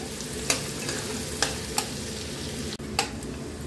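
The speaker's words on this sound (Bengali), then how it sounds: "পেঁয়াজটা হালকা ভাজা হয়ে গেছে।" Onions sizzle steadily in a frying pan for spicy soya, with a few sharp spatula scrapes and taps breaking the continuous frying hiss.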